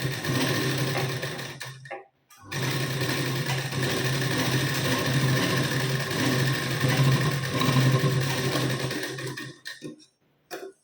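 A home sewing machine steadily runs stitches along a folded hook strip on a blouse, close and loud, pausing briefly near the start and stopping at the end.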